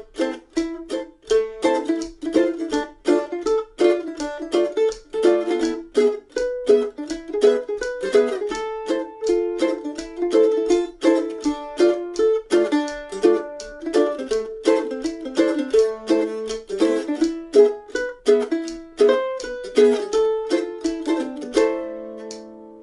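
An intermediate arrangement of a tune on mandolin, busy picked melody lines woven with closed chord strums, played solo and close for about twenty seconds before settling on a sustained final chord.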